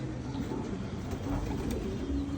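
A pigeon coos in low, soft repeated throaty calls close by, over a faint background hum.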